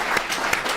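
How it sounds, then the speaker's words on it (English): Applause from the audience at a recovery services alumni meeting, a short dense burst of many hands clapping filling the room, steady and fairly loud with no voices over it. "Give them another round of applause."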